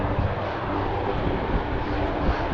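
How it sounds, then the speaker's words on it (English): A helicopter flying overhead on Oahu, Hawaii, makes a continuous broadband engine roar that drones steadily, like an aircraft passing at a distance, with no gaps or voices. "I don't know what that helicopter's doing."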